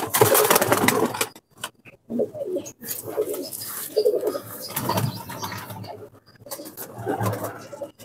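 Pigeons of fancy breeds coo in soft, repeated throaty bursts at close range, with brief wing flaps and handling noises between the calls. No one speaks over them.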